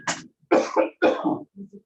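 Three rough, breathy coughing bursts in quick succession, close and fairly loud, followed by a few faint short grunts.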